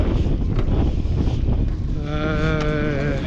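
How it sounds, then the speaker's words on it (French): Steady, heavy wind roar aboard a sailboat buffeting the microphone throughout, with a rising tonal hum joining partway through. "très fort vent"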